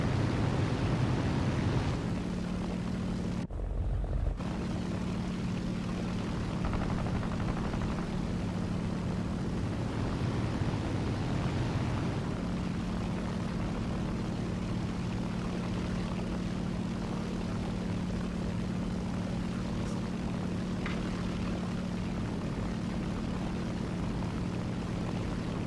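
Propeller fighter plane engine droning in the War Thunder air arcade game, a constant loud airscrew hum with steady tonal drone throughout, broken only by a brief gap early on.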